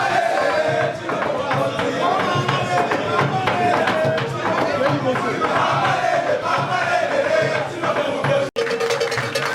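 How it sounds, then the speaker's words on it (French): Political supporters at a rally cheer and chant together, a loud, rhythmic mass of voices with shouting and scattered clapping that carries on continuously, broken by one abrupt gap near the end. "sous les acclamations frénétiques de l'assistance"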